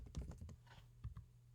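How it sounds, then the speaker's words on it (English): Keys clatter on a computer keyboard in a quiet room, a quick cluster of close, crisp taps followed by a short pause and a few more strokes, with no voices. "you will need to type in two lines"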